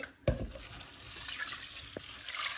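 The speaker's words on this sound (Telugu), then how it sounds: "వాటర్ పోసి" Water poured over chana dal in a kitchen to wash it, a sudden splash followed by a short trickling pour and a second brief splash, close and fairly quiet with no voices.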